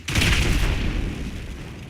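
A grenade launcher explosion in GTA 5 Online: one loud, deep boom that swells at once and rumbles on, fading slowly through the rest of the moment with no talk over it.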